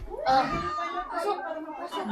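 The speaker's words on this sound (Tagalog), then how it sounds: "Pero panregalo na natin yan si Kuting." A kitten gives a few short high meows close by, mixed in with lively nearby talk and chatter.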